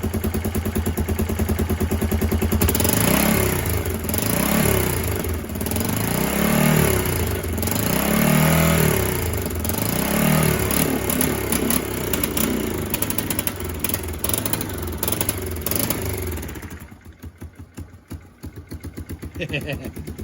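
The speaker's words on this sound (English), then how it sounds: "you can see the throttle and the exhaust here" A Kawasaki KLF300 Bayou 4x4 ATV engine running up close, with a steady rhythmic chug and repeated swells as the throttle is worked, then settling to a rough idle near the end.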